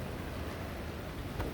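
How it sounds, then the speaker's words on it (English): Strong outdoor wind roars and buffets the microphone as a dense, steady broadband rush, with rain likely mixed into the noise; a brief gust swells near the end. "Oh, it's really windy and really loud."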